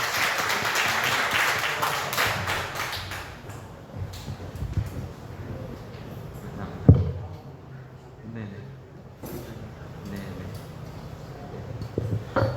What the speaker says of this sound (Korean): 멀리서 우리 오유진 강사님께 큰 박수 부탁드리겠습니다.